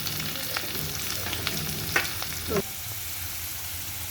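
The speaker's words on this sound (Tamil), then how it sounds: "பிரண்டை நல்லா எண்ணெயில் பொரிஞ்சிருச்சு. இப்போ வரமிளகா சேர்த்துக்கலாம்." Pirandai (adder's creeper) and dried red chillies sizzle steadily in hot oil, with a few sharper spatters and scrapes around the middle and a brief louder burst of frying near the end.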